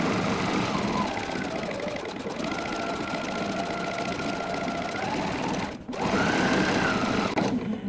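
A sewing machine stitches rope in a steady, loud mechanical whir that runs continuously, breaks off briefly near the end, then starts again. No one speaks over it.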